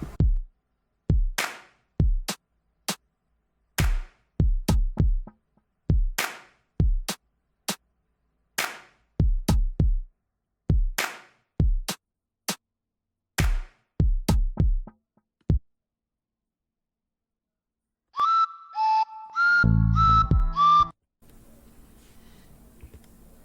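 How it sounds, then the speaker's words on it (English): A simple composed beat loops percussion parts, drum kit kicks, hi-hat ticks and claps in a steady rhythmic pattern, clean and isolated, followed near the end by a short electronic melody phrase with a buzzy, synth-like tone. "it's got just a bunch of different percussion instruments, drum kit, hi-hat, clapping, that sort of thing"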